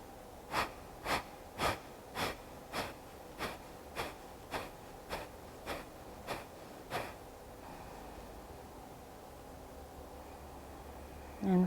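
Rapid forceful exhalations of breath of fire yoga breathing come in about a dozen sharp, evenly spaced puffs close to the mic, slowing slightly before giving way to quiet, soft breathing.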